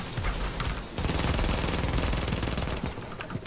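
Rapid automatic gunfire from The Division's Dark Zone shotgun-heavy combat, dense bursts of shots crackling steadily throughout without a break, loud and close, with a sharper hit right at the end.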